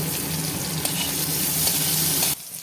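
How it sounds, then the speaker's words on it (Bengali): Bitter gourd fries in hot mustard oil with a little turmeric and salt, a dense, loud, continuous sizzle close up that cuts off abruptly near the end, leaving near quiet. "উচ্ছে আমি লাল করে ভেজে নেব"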